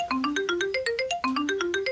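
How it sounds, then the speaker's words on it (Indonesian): A mobile phone rings with a bright electronic melody, a quick run of rising notes heard twice. It is loud and close, with no voices. "dengaran nih, Kipli telepon nih, ngopo iki?"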